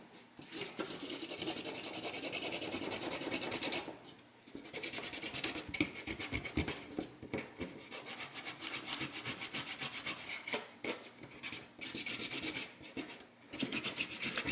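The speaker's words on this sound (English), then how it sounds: "so here's where eraser comes in." An eraser rubbing back and forth on drawing paper in quick, scratchy strokes, a close, dry friction sound in bursts with short pauses between them and no voices.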